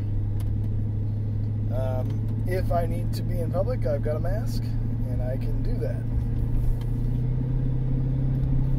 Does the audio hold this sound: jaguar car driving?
yes